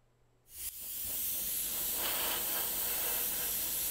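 An airbrush loaded with Createx Candy 2.0 paint starts abruptly after a short quiet moment, then sprays a steady, close, airy hiss onto a prepped aluminium composite panel.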